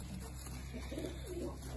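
A pair of Indian pigeons, one male and one female, coo softly and low in short rolling phrases over a constant background hum.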